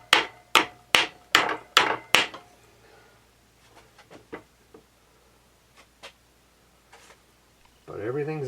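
A hammer taps a Honda CT70H engine part, six sharp metallic strikes in quick even rhythm, then scattered lighter knocks and handling noises, before a voice begins.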